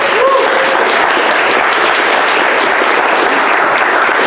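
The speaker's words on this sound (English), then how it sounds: "Can we give another round of applause to Stewart?" An audience at an Ethereum developers meetup claps steadily for a speaker, a dense, even wash of applause filling the room at full volume without letup.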